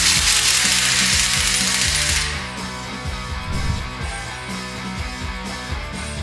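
A ratchet tightens the axle shaft nut on a Dana 44 axle, giving a loud, steady run of close metallic clicks that continues with no talk.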